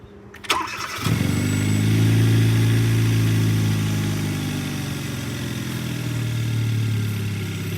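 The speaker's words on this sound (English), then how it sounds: "then you wanna fire up the car" A car engine cranks briefly and catches after an oil change, then settles into a steady, close, loud idle that holds with a slight rise and fall.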